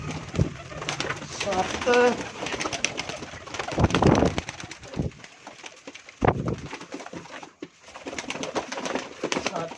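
Pigeons coo close by in the city of Dinga, with soft rolling calls and some wing flutters, while someone talks over and between them.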